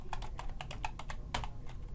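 Steady run of typing on a computer keyboard while entering web page code for a textbook assignment, crisp close clicks in a quick uneven rhythm, alone with no talk.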